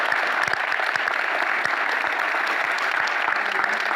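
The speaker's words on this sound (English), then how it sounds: "Round of applause for these guys." An audience at a tech and local business panel breaks into sustained, even applause, many hands clapping together in a steady wash with no speech.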